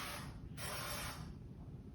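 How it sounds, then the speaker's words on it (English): Coconut oil spray hisses from an aerosol can onto a cupcake pan in two short bursts, a soft close spritz over a faint mechanical click. "Here's the spray coconut oil. And then just hit them each"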